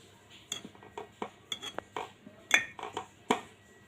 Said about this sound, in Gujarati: ચમચેથી આ રીતે આપણે દબાવીશું.